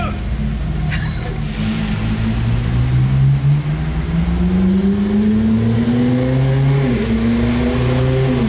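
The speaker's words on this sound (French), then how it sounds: "Première fois de ma vie que je roule derrière une Koenigsegg Jesko." Koenigsegg Jesko driving ahead on Monaco streets, a loud low engine drone that rises steadily in pitch as it accelerates, heard from close behind inside a following car.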